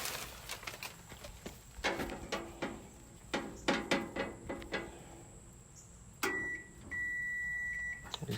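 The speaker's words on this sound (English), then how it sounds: "Looking for the beep." A multimeter on continuity setting gives a steady electronic beep while probing parts of a Whirlpool dryer that is not heating; the tone holds for about two seconds near the end, after scattered clicks and handling taps.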